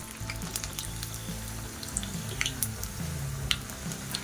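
Maddur vada frying in oil in a large pan, a steady close sizzle with scattered crackling pops throughout.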